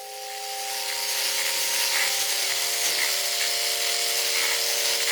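Chocolate cake batter being mixed, probably with an electric mixer, giving a continuous buzzing whir with steady motor tones and a brief rise at the start, loud and alone with no talking.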